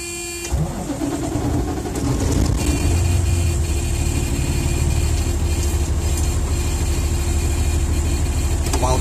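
A truck engine cranks and catches, then settles into a loud, steady idle with a constant hum while air brake pressure builds.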